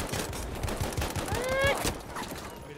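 Machine gun fire during a Battlefield V match: a steady stream of rapid, sharp shots, with a brief rising whistle-like tone partway through the burst.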